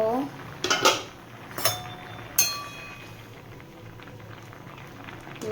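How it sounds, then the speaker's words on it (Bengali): A metal lid lifted off a pot of boiled mung dal, with a few sharp clanks and ringing metallic taps early on, then a soft bubbling simmer in the background. "ঢাকাটা খুলে দেখব"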